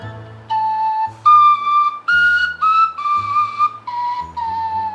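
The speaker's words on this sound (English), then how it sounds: "it's just a worse version of a whistle" A shrill whistle made from a carrot with part of a whistle taped into it plays a short melody of distinct held tones, each note slightly wavering and breathy, alone and close.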